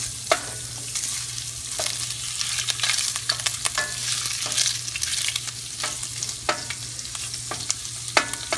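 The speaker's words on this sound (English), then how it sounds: "we're going to brown this meat up and break it apart a little bit as we cook it" Sweet Italian sausage sizzles steadily as it browns in a hot pan, while a utensil stirs and breaks it apart with frequent scraping clicks over the constant frying hiss.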